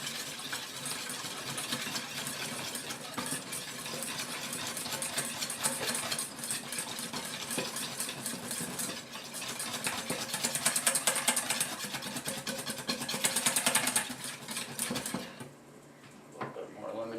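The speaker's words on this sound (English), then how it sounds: "Alright, so now we're ready to whisk it up." Ingredients seasoned with salt, cracked black pepper and lemon juice are whisked in a bowl, a steady, busy whirring and rattling that runs for about fifteen seconds before easing off.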